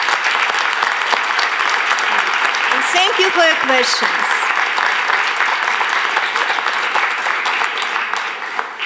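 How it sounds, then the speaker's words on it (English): A lecture audience breaks into loud, sustained applause at the close of a university talk, dense clapping filling the whole clip while someone briefly speaks over it. "A big round of applause."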